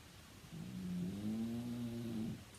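A dog named Waffle House snores during a quiet yoga session, one long low drawn-out rumbling snore rising and then fading, faint and close, with no talking.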